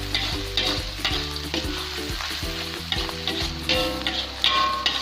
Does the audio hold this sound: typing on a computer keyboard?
no